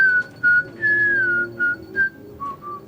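A man whistles a melodic tune in a pub, a series of clear sustained and sliding notes in short phrases over a low murmur of background chatter.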